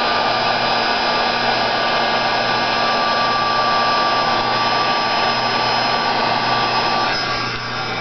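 A hair dryer runs continuously at close range, blowing a loud steady whoosh and hum as it dries a slightly wet fly on a fly-tying vise, easing off only at the very end.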